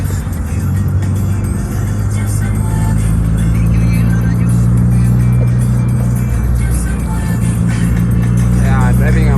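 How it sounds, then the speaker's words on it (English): Manual car converted from carburetor to electronic fuel injection, driving along a rough road in fifth gear; a steady, loud engine drone with low road rumble runs throughout. "Yeah, driving a manual car."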